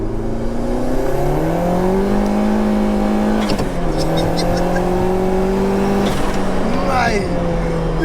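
A turbocharged 2.1-litre stroker Peugeot 205 GTI with 315 bhp pulls hard in third gear, its engine note climbing steadily and loudly with a brief shift around the middle, heard from inside the car while people talk over it.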